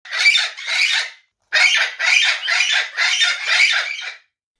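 A pet parrot gives its dominance call, a sharp squawk repeated in bursts: two close calls, a short pause, then four more in a steady rhythm. The calls are loud and near, and nothing else is heard.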